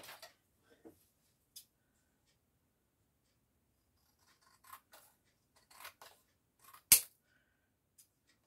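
Scissors trim a paper card, giving sparse, faint snips and paper rustles close by in a quiet room, with one sharper cut near the end.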